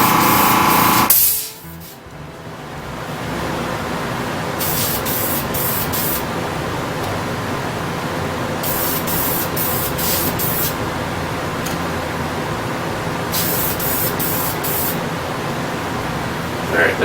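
An air compressor and a fan run together in a model-car painting workspace, a loud, steady hiss close by, with a brief thump and dip at the start and faint periodic higher bursts.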